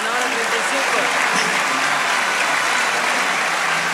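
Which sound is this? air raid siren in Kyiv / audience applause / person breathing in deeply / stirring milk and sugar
audience applause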